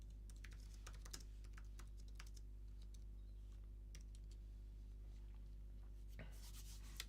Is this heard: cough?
no